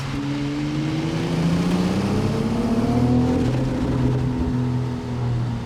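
A BMW X3 M50 crossover accelerates hard while overtaking on the Hulftegg alpine pass. The engine note climbs steadily and stays loud and close throughout, with no talking.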